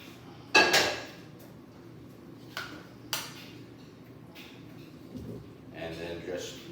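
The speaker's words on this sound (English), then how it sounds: "Now I'm going to mix in the cheese mixture that we made and get that well combined." Cauliflower being stirred into a cheese mixture in a mixing bowl for keto cauli-mac and cheese, heard as a few sharp clinks and scrapes of a utensil against the bowl with soft mushy stirring between, fairly quiet and close.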